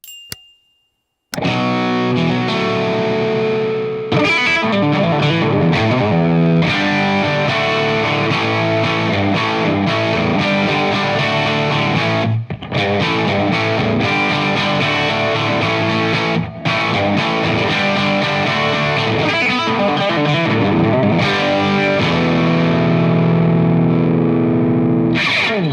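Magnatone tube guitar amp with EL34 power tubes playing a continuous distorted electric guitar passage, loud and dense with sustained chords and ringing notes, no talking.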